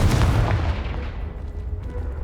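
A Confringo blasting spell explodes in the Hogwarts Legacy video game, a sharp, loud boom up front that trails into a low rumbling decay, with no talking.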